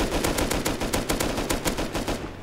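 Rapid automatic gunfire from a video game shooter, a dense loud burst of shots with steady rhythm running nearly the whole time before cutting off at the end.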